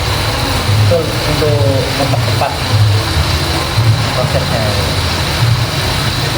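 A mechanical weaving loom works in a Troso weaving village in Jepara, its steady mechanical din broken by regular low thumps about once a second, with a person talking over it throughout.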